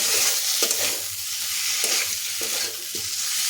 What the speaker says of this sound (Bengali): সামান্য একটু জল দিয়ে মশলাটা খুব ভালোভাবে কষিয়ে নিতে হবে যতক্ষণ না মশলাটা কাঁচা গন্ধটা যায়